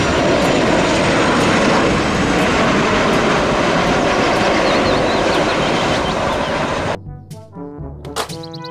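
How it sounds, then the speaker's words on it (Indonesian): A loud, steady roar of an airplane engine fills most of the clip, then abruptly gives way to light background music near the end. "Pesawat terbang."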